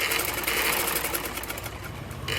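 A sewing machine runs in one continuous close burst, stitching the folded waistband of a ladies' shalwar, with a fast steady needle rhythm and no talk.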